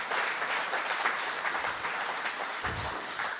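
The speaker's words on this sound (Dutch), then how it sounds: "Even een applausje." Steady applause from an indoor audience at a public gathering, many hands clapping in an even, dense wash at moderate distance, with a brief low thump near the end.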